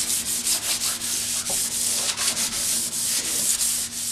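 An old handsaw blade is rubbed with 400 grit sandpaper in quick, even back-and-forth strokes, a close, steady rasping rhythm with no voices.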